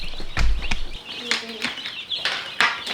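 Newly arrived meat-bird chicks peep in short, high chirps inside a brooder under a heat lamp, with handling noises and low voices of people nearby.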